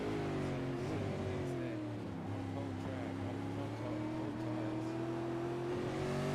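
A V8 Supercar engine in a sim racing game drones steadily at Circuit Zolder, with a sustained whining tone that shifts gently in pitch as the car accelerates on cold tyres, while a commentator talks over it.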